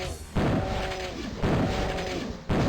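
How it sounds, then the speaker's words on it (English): Shotgun blasts in Doom II, three heavy booming shots spaced about a second apart, each followed by a short ringing decay, loud and close with no talking. "I'll just keep using the shotgun"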